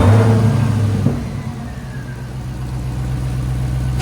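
Hellcat Redeye supercharged engine swapped into a Chrysler 300 fires up with a loud burst, then settles into a steady, rumbling idle with a faint high supercharger whine riding above the low drone.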